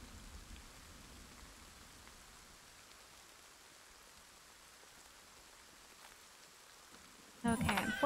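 Soft, continuous rain hisses evenly in the background of the Kingdom: Two Crowns video game, faint and steady, until a sudden louder burst of game sound cuts in at the end.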